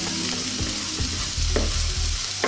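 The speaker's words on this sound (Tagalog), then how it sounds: "Lalagay natin yung ating bawang. So hihintay lang natin siyang pumula sandali." Garlic sizzles in hot oil in a frying pan, a steady close crackle with a few brief stirring scrapes and clanks, no talking.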